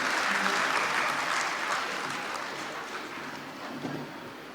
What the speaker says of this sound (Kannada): ಒಂದು ಜೋರಾದ ಚಪ್ಪಾಳೆಯೊಂದಿಗೆ ಆ ತಂಡಕ್ಕೆ ಅಭಿನಂದನೆಯನ್ನು ಸಲ್ಲಿಸಿ